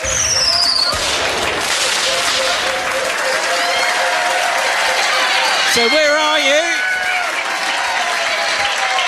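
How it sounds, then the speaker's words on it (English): Loud applause and cheering from a pub quiz crowd at The Granta greet the winning team, with a host talking over the noise and a brief whoop rising near the end. "Give him a huge round of applause."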